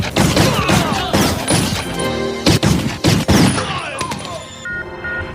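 Gunfire erupts during a shootout in an action film, with dense bursts of shots and heavy thuds over a busy mixed soundtrack, loud and continuous with sharp broadband bangs.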